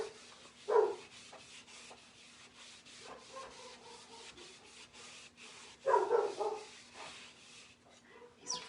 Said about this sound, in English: He's really getting a big boy bark too.